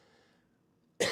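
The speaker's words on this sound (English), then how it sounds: "I'll try to mute my mic when I cough." A single sharp, loud cough bursts out close to the mic at the very end, after near-silence, from a sports-betting talk-show host.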